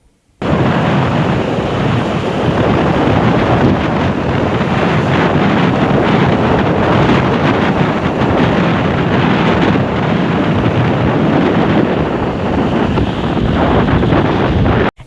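Strong wind and crashing waves on an island's east and southeast coast during a cyclone, a loud, continuous roar with heavy microphone buffeting that starts abruptly and holds steady throughout.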